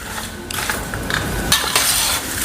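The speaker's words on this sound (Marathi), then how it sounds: "चिवड्यात मसाला टाकून घेते आणि मिक्स करून घेते" Dry chivda, a flattened-rice snack, is tossed with chivda masala in a pan, giving a close, steady rustling and scraping with occasional metallic clinks as the spoon moves through it.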